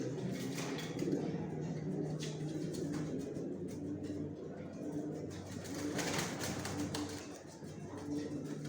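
Racing pigeons of the Johnson line coo inside a loft, with soft overlapping coos and low murmuring repeating steadily alongside faint rustling and tapping.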